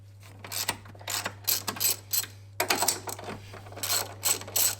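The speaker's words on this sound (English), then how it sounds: "you can get rid of the ratchet and just spin them off by hand" Ratchet with a short extension working the strut brace nuts on an Audi TT, a series of rapid clicking bursts at close range, repeated in short runs with brief pauses and no talking.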